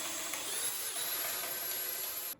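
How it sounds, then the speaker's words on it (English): A power drill bores holes into a wooden board with a steady high whine that runs unbroken, fairly quiet and close, then cuts off abruptly at the end. "this starts off the exact same ways by drilling holes into your first board"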